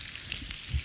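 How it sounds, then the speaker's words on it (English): Whole spices dropped into hot cooking oil crackle and sizzle in a short, close burst, with a brief louder pop near the end and no voices. "you can test the oil just by popping in a couple of spices. And if they start sizzling"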